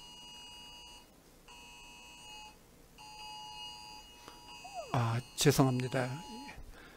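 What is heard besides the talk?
amber alert emergency tone sounding from mobile phones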